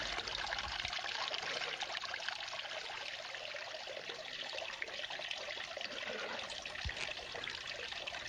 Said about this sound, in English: everything that we pour into it is just going right over the top